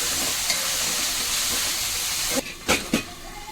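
Onion and tomato sautéing in hot oil for a prawn gravy, a loud continuous sizzle and hiss that drops away near the end, followed by a few sharp close stirring scrapes against the pan.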